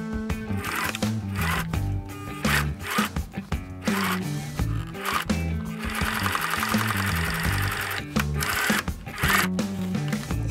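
A sewing machine stitches a seam on a box cushion seat for a golf cart, loud and close, running in rapid mechanical bursts broken by short pauses, with a longer continuous run midway.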